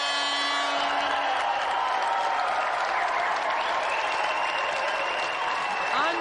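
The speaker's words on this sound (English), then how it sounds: "So let's have another round of applause for Matthew Frary and our special guest, Ror" Sustained applause from a studio audience, loud and steady throughout, with a few faint electronic tones mixed in.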